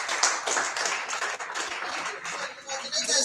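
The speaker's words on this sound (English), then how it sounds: "Clap up for yourself" Rotary presidents-elect at a learning seminar in Lagos clap for themselves, a lively mass of hand claps with uneven rhythm, fairly close and continuous, with faint voices underneath.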